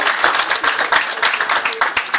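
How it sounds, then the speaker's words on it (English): A brief burst of audience applause at a Respect Party campaign launch in Halifax, crisp and close, many hands clapping steadily with no talk over it. "so I think a round of applause for him."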